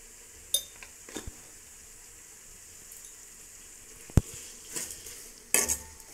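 A spoon stirs turmeric through brinjal frying in a pan. Soft sizzling runs underneath scattered sharp clinks and scrapes of the utensil against the metal.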